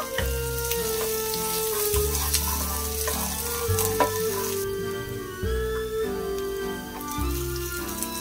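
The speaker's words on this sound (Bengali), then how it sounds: "পেঁয়াজটা ফ্রাই করা হয়ে গেছে" Chopped onion frying in a pan for a Bengali palak potato dish, a steady close sizzle with soft crackles and occasional stirring scrapes running throughout, no voices.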